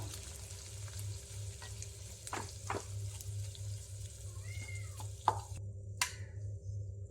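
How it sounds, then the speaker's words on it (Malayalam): Prawns frying in hot oil keep up a steady, moderately loud sizzle with a low hum underneath and a few clinks and scrapes as they are stirred and turned; no one speaks. "കൊഞ്ചെല്ലാം ഫ്രൈ ആയി വരുന്നുണ്ട്"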